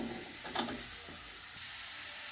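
Large pieces of white pumpkin (ash gourd) sautéing in a pan for kootu give a quiet, steady sizzle and hiss, with one brief stirring clink near the start and no talking.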